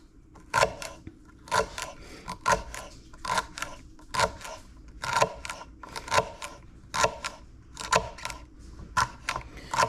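A kitchen knife chopping celery on a cutting board in quick, evenly spaced crisp cuts, about two per second, close and clear with little else around.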